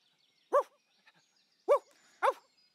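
A dog gives three short barks or yips, the first alone and the last two closer together, with quiet gaps between them and no talking.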